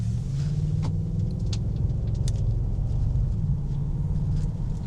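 Deep, continuous V8 roar from an Audi S5 pulling hard through traffic, loud and close with steady low rumble throughout and no talking.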